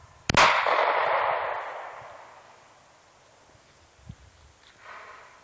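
A single sharp shot from a 9mm Glock 19 pistol on an outdoor range cracks out near the start and echoes away, followed by faint small knocks.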